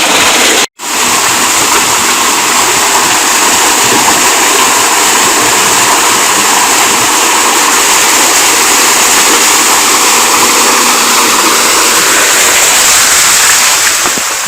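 Steady, forceful rush of water gushing from a tubewell during cleaning, loud and close, filling the whole clip without pause.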